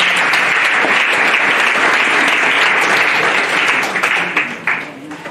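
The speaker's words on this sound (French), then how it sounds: "Est-ce qu'on peut acclamer le Seigneur?" A church congregation applauds loudly in praise of the Lord, a dense, sustained wave of clapping that thins and tapers off near the end, with a voice faintly present.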